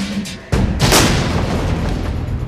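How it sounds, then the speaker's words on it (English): A simulated rocket-propelled grenade blast hitting a vehicle patrol in a training scenario: a sudden loud boom followed by a sustained roaring rumble and debris noise that fills the rest of the moment. "We have simulated an incident in which a vehicle patrol is hit by a rocket-propelled grenade."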